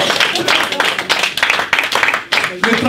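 A church congregation claps and acclaims together, a dense, steady wash of hands and voices at full volume with brief dips in between.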